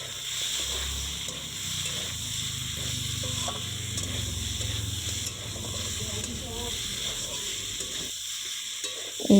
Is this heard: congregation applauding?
no